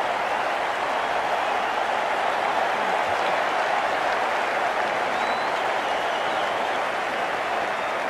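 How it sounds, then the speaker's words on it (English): Cricket crowd at a West Indies versus Zimbabwe Test match applauding a boundary four, sustained clapping and cheering from a large distant crowd, steady throughout with no voices. "The crowd are loving this."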